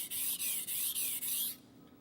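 A knife blade stroked up and down a sharpening stone by hand: five even rasping strokes in a steady rhythm, close and clear, then a quiet stop.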